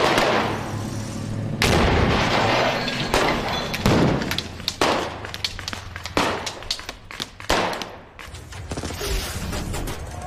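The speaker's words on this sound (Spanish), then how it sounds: "Tenemos balazos, tenemos detonaciones, tenemos explosiones" Gunfire and explosive detonations staged for an action scene on a TV drama set, with repeated sharp bangs and thuds, some clustered in quick bursts, loud and close across the whole stretch without speech.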